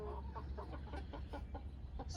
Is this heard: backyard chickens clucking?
yes